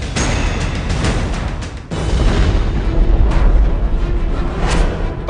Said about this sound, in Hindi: पाकिस्तान के धमाके याद होंगे आपको, जिन्होंने एलओसी पर दहशत का खेल खेला था